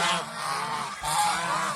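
Domestic geese crowding for feed give off a dense, loud chorus of overlapping honks and nasal calls, close by and continuous, with no voices over them.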